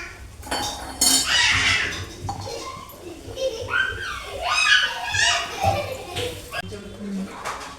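Tomatoes are stirred into a soya chunk curry in a pan, with metal spoon clinks and scrapes heard under a person talking throughout.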